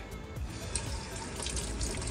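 Faucet running into the sink of a 2023 Forest River Flagstaff E-Pro 15TB travel trailer, a steady close splashing stream of water with no voices.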